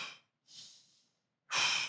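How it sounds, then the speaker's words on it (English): Powerful voluntary hyperventilation, close and alone: three forceful breaths, a short exhale, a longer breath, then a loud rushing one, with brief silences between them. "It's powerful breathing."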